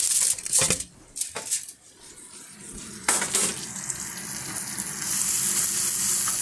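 Onions fry in a pan while short ribs cook, with a few clattering handling noises early on, then a steady, close sizzle that fills the rest of the clip without talk.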